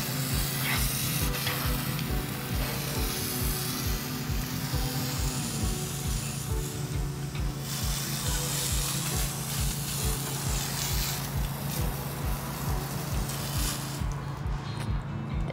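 Continuous hissing water spray on eucalyptus wood slabs runs over a low, steady mechanical hum, with the spray shifting in intensity, loud and close.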